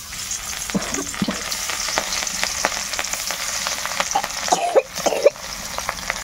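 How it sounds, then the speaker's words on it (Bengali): Rohu fish pieces fry in hot oil, a loud continuous sizzle with crackling pops and spits throughout, close by, and a brief scrape or cough-like sound near the end. "এবার মাছগুলো ভেজে নেব।"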